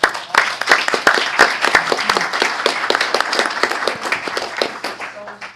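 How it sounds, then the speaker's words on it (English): A room of people at a utility board meeting gives a round of applause, crisp individual claps close by forming a steady, fairly loud patter that slowly tapers off. "Let's give them a round of applause."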